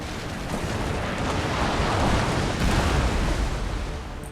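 Ship cannons in Total War: Empire fire a broadside, a dense rumbling roar of overlapping booms and blasts that swells steadily and stays loud throughout, with no talking.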